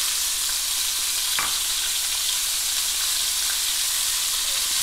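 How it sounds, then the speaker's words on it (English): Carrots, celery, onion and garlic sauté in a hot pan, giving a steady, loud broadband sizzle that runs continuously throughout with no talking. "I'm going to sauté these for about 2 minutes"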